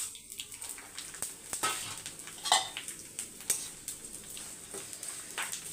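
Vermicelli is roasted in a pan, giving faint dry rustling and light sizzle with occasional clinks and scrapes of a spoon against metal as it is stirred.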